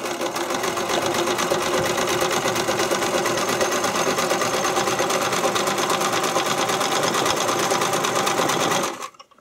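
A sewing machine runs a long, steady seam through spandex fabric, its rapid needle chatter continuous and close before stopping abruptly at the end.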